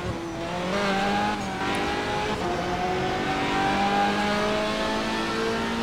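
Ferrari GTE race car on the Le Mans circuit in a racing video game, its engine revving and shifting through gears in a sustained loud onboard roar with rising and falling pitch.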